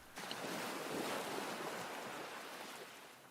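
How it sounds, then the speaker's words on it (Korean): Ocean waves wash onto a beach in a continuous loud surf roar with wind, swelling slightly and then fading a little, with no voices. "파도 소리는 정오 때보다 더욱 나른하고 평온해졌다."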